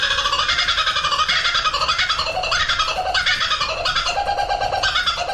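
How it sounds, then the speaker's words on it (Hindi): A laughing kookaburra cackles in a loud, continuous burst of rapid, chattering hoots that rise and fall without a break. "नेक्स्ट है लाफिंग कूकाबूरा।"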